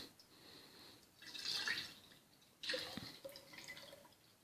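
Organic whole milk poured from a container onto kefir grains in a jar, a soft liquid splashing and trickling in two bursts, close and moderately quiet, with no talking.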